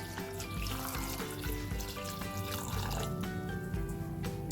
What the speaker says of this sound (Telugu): ఇప్పుడు తగినన్ని వాటర్ వేసుకోవాలి